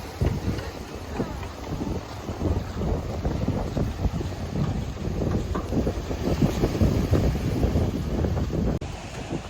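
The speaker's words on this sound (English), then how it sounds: "I don't know how well you'll be able to hear me because it's quite windy" Wind buffets the microphone in loud, irregular low rumbles and gusts, continuous throughout with a brief dip near the end.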